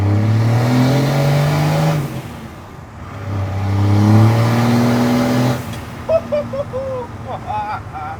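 A Cummins turbo diesel Ram truck accelerating hard, its engine roaring loudly with rising pitch through two long pulls, followed by a gear change and a quieter rev as a person talks over it.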